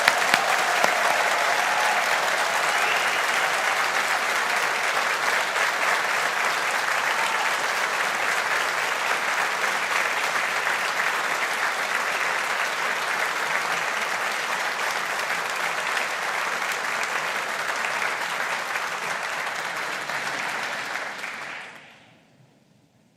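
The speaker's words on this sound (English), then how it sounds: "Let's give our graduates a big round of applause." Graduation ceremony audience for Faculty of Science and Faculty of Engineering graduates in Barony Hall applauding, a dense, loud, steady wash of clapping that holds for about twenty seconds before fading quickly at the end.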